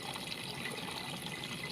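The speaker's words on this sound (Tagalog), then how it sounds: "pagkagaling dito sa likod is pupunta dito yung tubig" Water pours steadily into a pond filter chamber, a soft continuous splashing trickle heard close and quite faint for a brief moment, with no voices.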